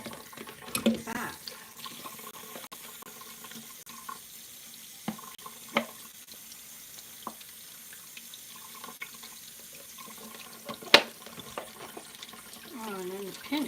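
Tap water runs steadily into a sink close by, with scattered clinks and knocks of items being handled and a voice speaking briefly now and then.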